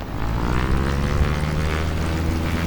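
Simulated Cubcrafters XCub light aircraft taking off in a flight simulator, its propeller engine droning steadily and loudly throughout with no break.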